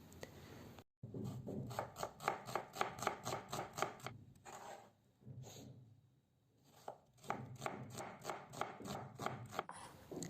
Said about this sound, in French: Je vais couper un oignon finement